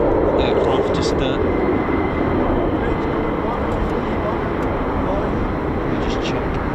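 Two military jets in the Cobra Warrior exercise roar past as a steady, loud broadband rush that fades slightly toward the end, with a voice speaking faintly over it.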